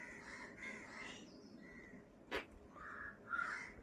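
A crow caws outdoors on a Kerala morning, a few harsh calls spread across the moment, with one sharp louder call in the middle and fainter cries near the end.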